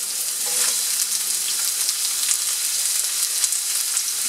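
Onion sizzles in avocado oil in a skillet, a bright, continuous crackling hiss heard up close with scattered small pops and no voices.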